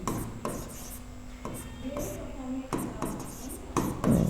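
Marker or chalk scratching on a board during a chemistry class, several short strokes separated by pauses, faint and close, with a quiet voice in the background.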